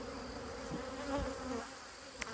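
Caucasian honey bees hum around a beehive in a continuous, moderately close buzz that swells and fades slightly, with no voices.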